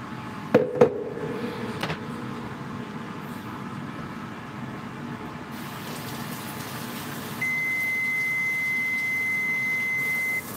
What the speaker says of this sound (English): That was the 3-minute buzzer.